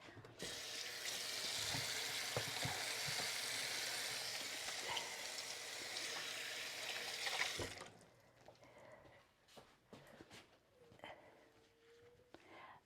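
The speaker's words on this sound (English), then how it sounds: "I just wash my hands." A kitchen faucet runs steadily as hands are washed under the stream, a broad continuous hiss lasting about eight seconds before the flow is shut off and only faint kitchen clatter and movement remain.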